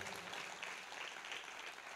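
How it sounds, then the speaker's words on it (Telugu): Church congregation at a Lutheran revival meeting clapping loudly: dense, steady applause from a crowd that fills the whole moment, heard somewhat distant and faint, with no voices over it. "గట్టిగా చప్పట్లు కొట్టి దేవుని కనపరుద్దాం."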